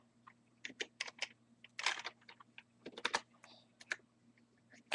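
Typing a name on a computer keyboard, a run of close, crisp key clicks in uneven bursts with short pauses between them, heard alone with no voices.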